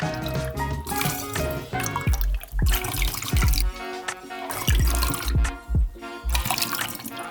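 Water is poured and splashed into a container to mix film stabilizer for home film developing, a steady close gushing with bursts of sloshing and dripping throughout.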